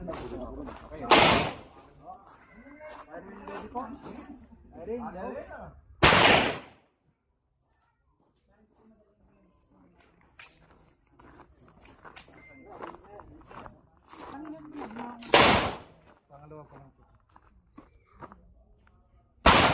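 Loud, sharp gunshots ring out a few times, several seconds apart, at an outdoor fun-shoot firing range in San Leonardo, Nueva Ecija, between stretches of people talking nearby and clicks of handling.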